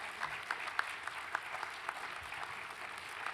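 Audience at a Parkinson's disease conference giving a round of applause to a neurology panel from UNMC Nebraska Medicine, a steady patter of clapping with a few sharper individual claps standing out.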